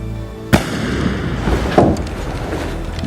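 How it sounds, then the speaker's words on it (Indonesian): Two sharp gunshots from a film, the first loud and abrupt, the second following after a pause, over a rumbling background. "tiba-tiba saja terdengar suara tembakan"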